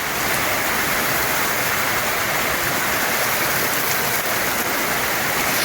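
Heavy rain of the season's first downpour pours steadily over farmland, a dense, loud and unbroken hiss like rushing water, with no voices.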